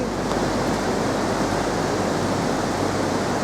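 A small mountain stream in the Redes Natural Park of Asturias rushes close by in a steady, dense gush of water that stays unbroken, with no voices.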